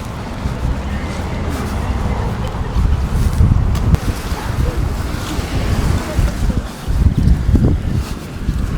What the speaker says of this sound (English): That wind's a bit nippy, I tell you.